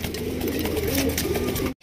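A light-coloured pair of racing pigeons gives a low, continuous cooing murmur close by over dense background noise, lasting under two seconds before cutting off abruptly.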